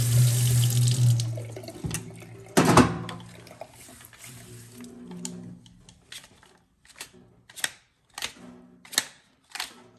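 Cold water runs from a tap during maintenance of a Wagtail High-Flyer V2 window-cleaning pole, a steady splashing flow at first that breaks into intermittent bursts and drips amid sharp handling clicks.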